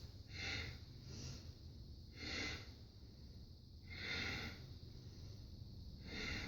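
Strong, slow breaths in and out through the nose during a standing yoga balance pose, four broad airy swells spaced about two seconds apart against a low steady hum.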